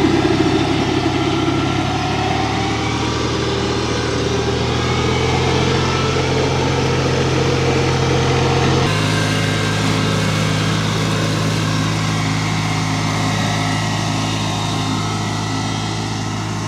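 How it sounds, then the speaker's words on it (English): An LS MT122 sub-compact tractor runs at about 2000 RPM with its 60-inch mid mower deck engaged, giving a steady, loud engine drone that shifts slightly in pitch partway through and continues without a break. "as soon as he hits the mid PTO, he'll rev it up. He's gonna engage it"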